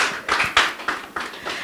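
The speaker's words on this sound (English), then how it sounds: "A round of applause for him, please." A short burst of hand claps at an event introducing a judge in a debate on godfatherism and democracy, with five or six distinct claps in an uneven rhythm, thin rather than a full crowd.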